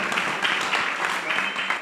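A crowd at a community dialogue event applauds with dense, continuous clapping, steady and fairly near, filling the short stretch without a break.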